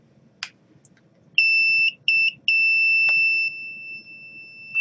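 Buzzer on an Arduino Multi-Function Shield sounds a bright, steady electronic tone in three bursts, two short beeps then one long held tone, close and loud over faint room noise.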